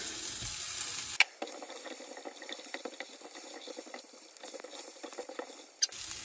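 Onion and potato frying together in a hot pan, a continuous crackling sizzle with light patter and occasional stirring clicks, fairly close.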